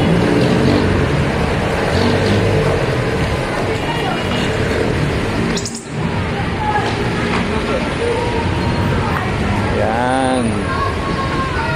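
Heavy street traffic on Recto Avenue in Manila, a dense roar of engines and idling vehicles with passing rumbles, a horn-like wail and nearby chatter and crowd babble.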